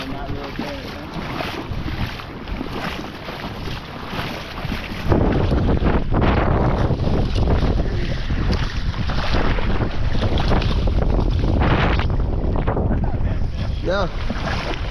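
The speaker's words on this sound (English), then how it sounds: "The wind is going to make it tough." Strong wind buffets the microphone beside a river while float fishing for steelhead, a rough continuous roar that grows louder and gustier partway through, with faint voices underneath.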